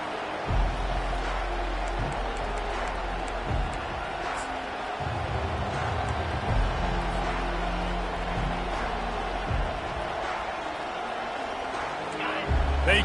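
Crowd noise from a packed college football stadium during the opening kickoff, a continuous roar of fans and babble with periodic low thumps, loud and sustained throughout with distant voices mixed in.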